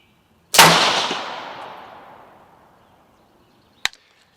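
A rifle fires downrange during a scope test, one loud shot ringing out with a long fading echo, followed a few seconds later by a second sharp, brief crack.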